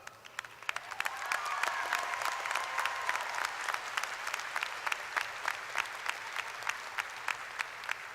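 A high school graduation audience applauds its scholars in a large hall, a sustained, fairly distant wash of clapping with individual sharp claps standing out throughout.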